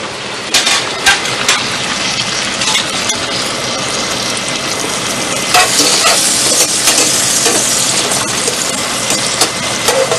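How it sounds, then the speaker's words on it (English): Russet potatoes sauté in melted butter with a steady, loud sizzle and crackle, with occasional scraping and stirring bursts throughout. "And we let this saute for a minute and a half"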